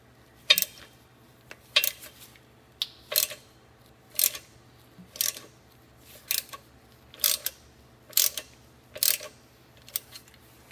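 Metallic clicks from a wrench loosening an 11 mm pipe plug on the transmission pan of a 1989-2004 Ford truck with an E4OD/4R100 transmission, about a dozen sharp ratcheting ticks in a steady rhythm, close and clear with no talk.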